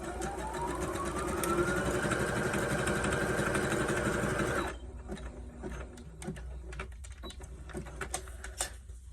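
A sewing machine stitches along the very edge of a skirt dart in non-stretch fabric, running as a steady close mechanical whir for several seconds before stopping, leaving faint clicks and handling noise.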